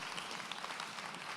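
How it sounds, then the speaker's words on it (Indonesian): Audience clapping at a live question-and-answer event, a brief burst of faint, dense applause heard from a distance. "Tepuk tangan dulu boleh dong"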